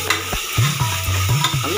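Ingredients for mutton biryani sizzle in a hot pan while a spoon scrapes and stirs in quick, repeated strokes, close and steady over a continuous frying hiss.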